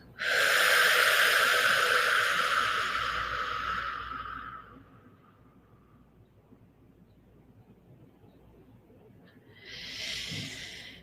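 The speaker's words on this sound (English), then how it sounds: "and breathing out." During a guided meditation, a long, steady exhale hisses out close and clearly for about four seconds and tapers off. A quiet pause follows, then another shorter breath near the end.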